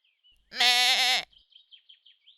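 A cartoon sheep character gives one loud, close bleat with a wavering, harmonic-rich quaver lasting under a second, followed by faint scattered chirpy noises.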